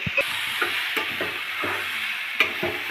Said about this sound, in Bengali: আলু, মটর সমস্ত কিছুই মশলার সাথে কিছুক্ষণ ভেজে নেওয়ার পর বা কষিয়ে নেওয়ার পর